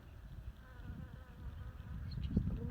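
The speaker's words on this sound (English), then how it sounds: "is just a little bee." A small bee hovers close by outdoors near a tree, a steady low buzz that swells louder toward the end.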